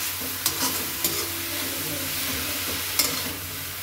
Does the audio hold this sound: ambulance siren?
no